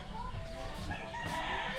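A rooster crows nearby just after rain has stopped, its call rising over a rough, noisy background with some faint voices mixed in.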